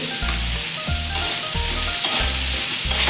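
Tomatoes with salt sautéing in a pan give a loud, close sizzle broken by a regular rhythm of heavy scraping stirs roughly every two-thirds of a second, with light clinks of the utensil.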